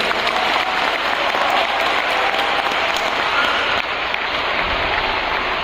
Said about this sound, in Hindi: तालियां बजाइए जोरदार से